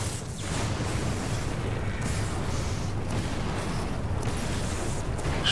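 Dense, continuous barrage of booming, crackling explosions like fireworks in the video game The Evil Within 2, a loud rolling roar that does not let up.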